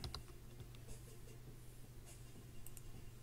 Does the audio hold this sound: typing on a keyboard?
yes